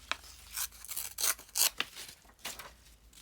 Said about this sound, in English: I'm just going to rip this off here